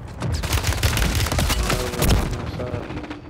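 Dense, continuous burst of rapid gunfire and heavy thuds in a first-person shooter game, with an MCW rifle and a rooftop sniper, loud and close with overlapping shots throughout.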